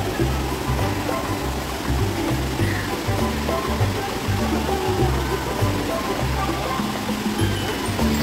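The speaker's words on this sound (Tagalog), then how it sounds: "So, ayan na ang Cambugahay Falls." Cambugahay Falls in Siquijor roars as a steady, loud rush of falling water that continues throughout, with a low rumble underneath.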